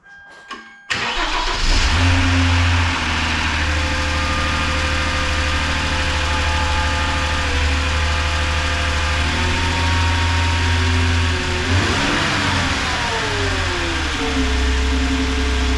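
A Hyundai Genesis Coupe with a freshly installed dual catch can kit and new oil cranks and fires up with a surge, then settles into a steady idle with a brief rev midway, loud and close.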